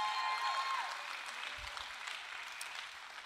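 A church congregation applauding the worship band, a soft, diffuse wash of clapping heard from a distance in a large room, steady and fading slightly as it continues.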